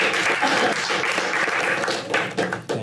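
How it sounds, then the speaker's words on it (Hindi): A stand-up comedy crowd breaks into steady applause, many hands clapping close together throughout, loud and continuous without a pause. "एक बार सागर के लिए ताली मार दो यार"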